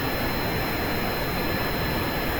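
Steady roaring rocket engine thrust from a modded Kerbal Space Program craft on a long-distance flight, a dense continuous hiss-laden rumble held at an even level throughout with no variation.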